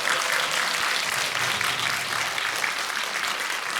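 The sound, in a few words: audience applause welcoming film guests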